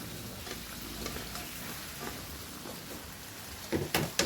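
Sautéed mung bean dish sizzles steadily in a pan while a utensil stirs it, scraping and clacking at irregular intervals, with louder stirring knocks near the end; close and continuous with no talking.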